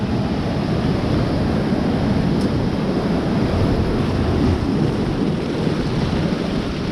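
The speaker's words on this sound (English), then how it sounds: "Waves are big out there." Big ocean waves break continuously on Carlsbad or Oceanside beach in San Diego, a loud, steady roar of surf mixed with rumbling wind noise across the whole stretch, with no voices.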